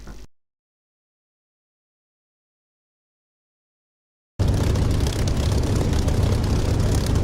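A propeller aircraft engine in the DCS flight simulator drones loudly and steadily, starting suddenly after a few seconds of silence and holding a constant low, rough hum with no talking.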